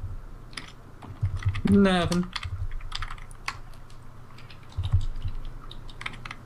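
Scattered computer keyboard keystrokes during a Minecraft mini-games livestream, light clicks spread through the clip over a low hum, with a brief spoken reply near the start.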